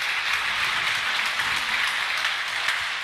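Church congregation applauding in praise during a Spanish-language sermon, a steady, dense wash of many hands clapping together at an even level with no pauses.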